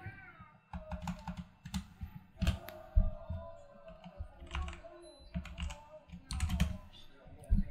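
Fingers tap irregularly on a computer keyboard in quick clicking bursts, fairly faint and close, while a cat meows intermittently over the keystrokes.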